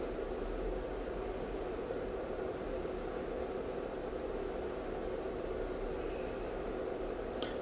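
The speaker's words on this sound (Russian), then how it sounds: "вот такой шум издает этот блок питания." A laboratory power supply running, giving off a faint, steady broadband hiss with a low hum beneath it, unchanging and continuous with no voices.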